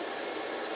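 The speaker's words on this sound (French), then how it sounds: "On fait un peu de bruit, les ventilateurs se mettent en route." Steady broadband whoosh of a solar inverter's cooling fans running in an off-grid house, a continuous close airy roar with no talking.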